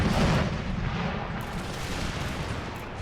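Canister shot artillery fire in the Empire: Total War strategy game, a sustained low rumbling barrage of booming cannon blasts that stays loud and dense throughout, with no speech over it.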